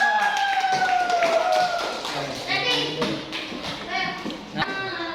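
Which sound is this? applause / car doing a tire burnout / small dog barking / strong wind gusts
applause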